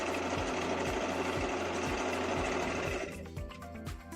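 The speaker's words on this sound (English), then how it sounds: "the cording foot holds the piece of hemp cord in place, holds it perfectly centered on the presser foot" A sewing machine runs steadily with a cording foot guiding hemp cord over fabric to gather it, giving close, rhythmic mechanical stitching that stops near the end, leaving a quieter hum.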